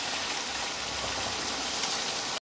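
Meat for Kabuli pulao fries over high heat with a dense, even, rain-like hiss that holds steady throughout, then cuts off abruptly at the end, with no voices.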